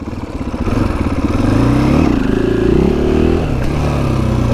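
A 2020 KTM 500 EXC-F dirt bike engine revs up and holds a loud, rough single-cylinder drone close by, with some mechanical clatter before it eases off slightly.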